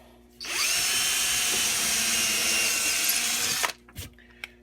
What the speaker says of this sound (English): Adding screws and countersinking these things.